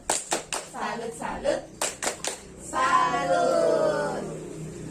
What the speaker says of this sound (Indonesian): Kita beri tepuk salut dulu ya untuk Ibu Dayu.